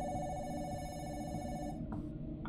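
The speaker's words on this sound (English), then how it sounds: "I think the world might not advance until I answer that phone" A telephone rings steadily in a walking-sim video game set in a mall with a self-checkout, its tone holding in the background with a brief break near the end.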